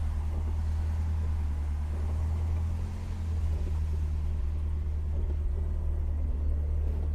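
A Citroen DS engine running rough while driving, a continuous low rumble and drone heard from inside the car, steady throughout with no voices.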